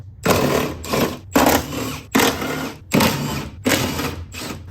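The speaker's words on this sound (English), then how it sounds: "So we need to raise the window a couple of inches" The power window motor in a Saab 9-3 whirs in six short, regular pulses as it raises the rear window a couple of inches, each burst close and clear with brief gaps between them.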